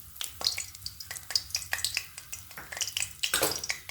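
Mustard seeds crackling in hot oil for a Marathi vegetable dish, a quiet, irregular stream of sharp little pops and snaps over a soft frying hiss.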